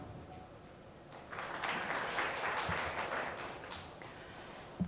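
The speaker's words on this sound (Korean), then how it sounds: "큰 박수 부탁드립니다" Polite applause from a forum audience swells for a speaker in a large hall, moderate and fairly distant, lasting a few seconds before thinning out.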